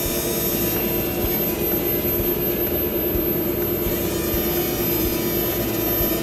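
A Hubsan X4 quadcopter holds a steady, loud, close whine from its spinning rotors while it hovers, constant throughout with no talk.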